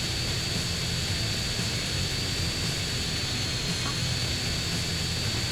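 Airplane engine drones steadily in the video game GTA San Andreas, a constant, loud roar with no breaks and nothing else standing out.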